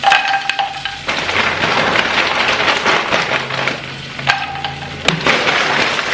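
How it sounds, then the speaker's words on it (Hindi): Makhana (fox nuts) frying in a pan, giving a steady broadband sizzle with a few sharper clatters of stirring, close and fairly loud throughout with no talk. "चलो मखाना फ्राई कर।"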